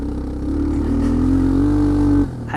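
A Suzuki Quadrunner 250 ATV engine runs at full throttle, a loud, steady mid-pitched drone that climbs slightly, then abruptly cuts off near the end.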